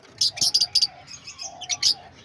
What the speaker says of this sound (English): And here we are at the lovebird cage.